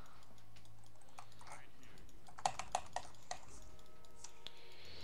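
Quick clicks of mouse and keys during a League of Legends match, a short cluster of sharp taps over a quiet background hum.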